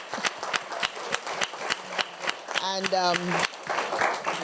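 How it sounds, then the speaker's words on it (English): An audience at a talk event on couples and mental health claps in a quick, even rhythm, the sharp claps close and fairly sparse, with a voice briefly speaking over them. "please give yourselves a round of applause"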